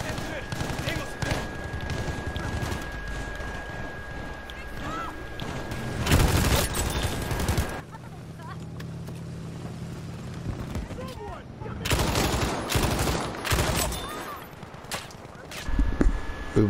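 A BAR M1918A2 machine gun fires in Battlefield V, loud rattling bursts standing out amid continuous battlefield din, with distant gunfire and a voice now and then.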